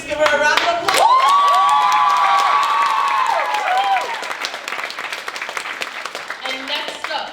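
Applause and cheering from a school audience at a writers' cafe event, loud clapping with a long sustained whoop or shout over it, then dying into scattered claps and murmuring voices.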